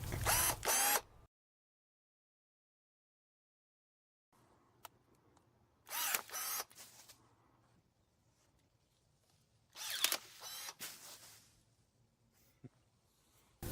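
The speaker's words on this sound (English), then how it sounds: "a battery-powered DeWalt electric pruning shear. Let me show you how easy that makes pruning a branch off of a big tree." A battery-powered DeWalt electric pruning shear cuts a branch off a big tree in a few short, sharp mechanical bursts of whirring and snapping, separated by quiet pauses, recorded up close outdoors.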